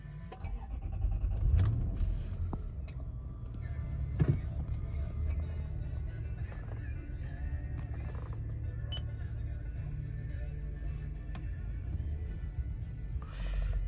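A 2004 Toyota Land Cruiser with 323,000 miles, a low steady engine rumble running throughout, with a brief louder surge near the start and faint mechanical creaks and clicks over the drone, no talking.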